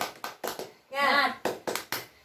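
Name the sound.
children doing a rhythmic 'tepuk semangat' clap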